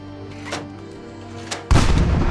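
A homemade mortar in Fallout 4 goes off with a single heavy, loud blast near the end, preceded by a low mechanical hum and a couple of soft thumps.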